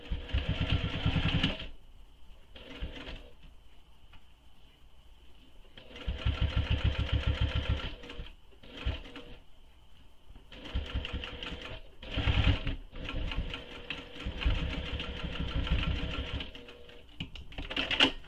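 A sewing machine stitches a fabric clutch bag in repeated bursts of rapid mechanical whirring, each run lasting a second or more, separated by short pauses, close and clear with no speech.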